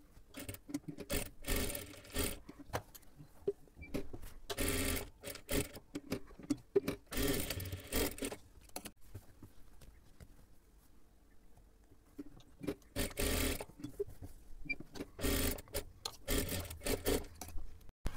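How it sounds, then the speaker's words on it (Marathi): A sewing machine double-stitches darts on a blouse in repeated short bursts of rapid stitching, separated by quiet pauses, close and fairly soft. "डबल शिलाई मारून घ्यायची आहे."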